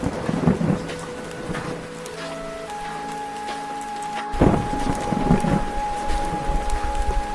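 Heavy rain falls steadily with thunder, including a sharp, loud crack near the middle followed by rumbling, and no voices are heard.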